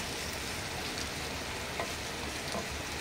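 Tomato, onion and chili sauté in an open pan for suke chole, a close, constant sizzling hiss with faint stirring scrapes.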